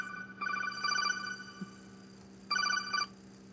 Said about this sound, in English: Incoming call.